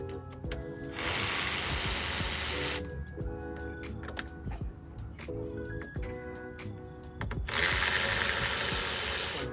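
Close, loud bursts of a driver whirring in two long stretches, with clicks and clatter between them, as a Torx T20 bit works on the turn signal switch screws of a Jeep LJ.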